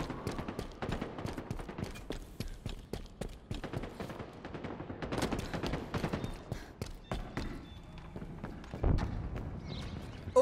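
Rapid bursts of Needler fire in Halo Infinite ring out among other weapon shots during a hectic multiplayer fight, dense and close, with overlapping impacts and game effects.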